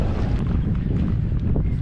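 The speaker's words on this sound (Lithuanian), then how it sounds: "Net nesupratau, kad vėjas mane pučia" Strong wind buffets a small fishing boat out on open water, a steady low roaring rumble with gusty surges pressing against the microphone throughout.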